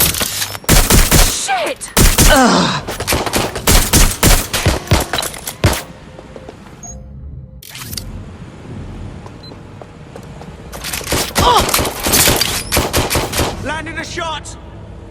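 Heavy automatic gunfire in Watch Dogs Legion rattles in loud, rapid bursts, pausing briefly before another volley of close shots; a voice cries out once amid the shooting.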